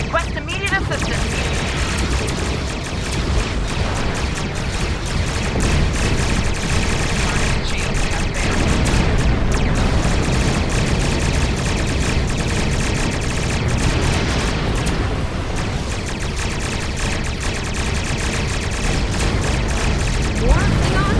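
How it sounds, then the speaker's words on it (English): Heavy weapons fire from a Star Trek Online space battle against Klingon ships, a dense, continuous barrage of blasts and booms that stays loud and unbroken throughout, with no pauses. "Taking heavy fire here."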